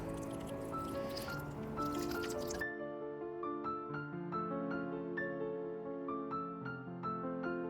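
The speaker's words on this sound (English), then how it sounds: "And water it all in." Water poured onto the soil of a potted rose squishes and gurgles briefly, then gives way to quiet, irregular drips and trickles close by, with no talk.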